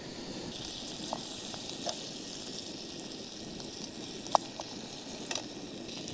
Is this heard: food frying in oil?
yes